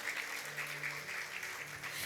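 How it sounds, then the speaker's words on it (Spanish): Church congregation applauding during a Spanish-language sermon, a steady dense wash of clapping heard at a distance, fairly faint, with organ or keyboard notes sustained underneath. "dale un aplauso al Señor"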